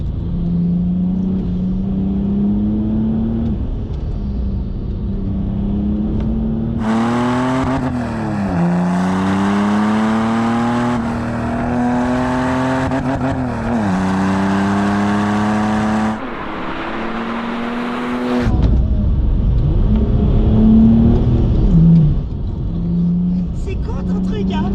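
A BMW E46 330Cd with a heavily tuned diesel engine accelerates hard, its engine note climbing through several gear pulls under loud in-car chatter, with wind and road roar filling the gaps between shifts.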